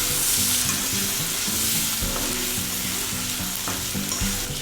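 Shrimp fry in oil in a pan with a steady, close sizzle. Occasional scraping and stirring sounds break in, and no voices are heard.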